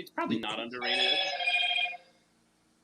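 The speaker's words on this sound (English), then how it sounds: "That was my phone." A mobile phone ringtone sounds loud and close for about a second with a steady tonal ring, right after a brief burst of speech from a man.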